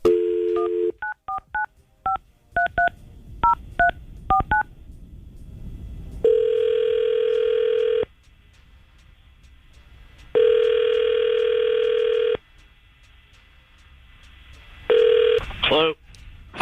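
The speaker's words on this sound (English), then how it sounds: "we're going to try to call Danielle and see if we can get some answers" Telephone dialing and ringing for a morning radio call: a burst of rapid touch-tone digits followed by long, repeated ring tones with pauses between, loud and clear with no one talking over them.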